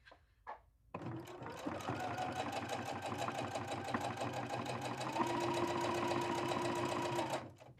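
A sewing machine stitches a quilt block for a drawstring bag, running in a steady, loud, fast buzz for several seconds after a brief quiet start, its pitch lifting slightly near the end before stopping.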